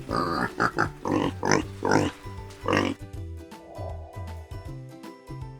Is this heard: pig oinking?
yes